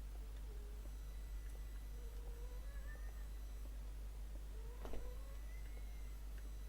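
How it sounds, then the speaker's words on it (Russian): Pet cat yowling indoors, several faint, drawn-out wavering meows spread across a quiet room with a low steady hum, sounding somewhat distant with no talking. "У меня кот кричит, ребят."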